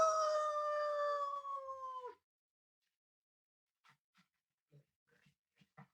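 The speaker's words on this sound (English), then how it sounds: "the sheriff's dog" A dog in a radio drama gives one long, loud howl that falls away sharply after about two seconds, followed by a few faint, scattered sounds.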